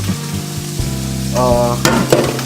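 Food sizzles loudly and steadily in a frying pan during home cooking, the crackle swelling as more goes into the pan, with faint clattering of utensils.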